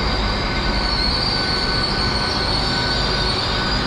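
A Great Western Railway class 802 train sits at a station platform, giving a steady, loud rumble of engine and rail noise with a faint high whine, continuous and unbroken throughout.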